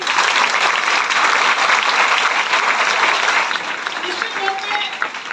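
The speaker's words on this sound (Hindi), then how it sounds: "एक बार जोरदार ताली आपके लिए।" A large seminar audience in a Raipur hotel hall bursts into loud, sustained applause, dense clapping filling the room evenly for several seconds before easing slightly toward the end.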